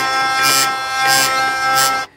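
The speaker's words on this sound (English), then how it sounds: "it was this drone, but it was like limping and lopsided" Failing hurdy gurdy droning unevenly, a buzzy sustained tone swelling in three lopsided, limping pulses before cutting off, close and without talk.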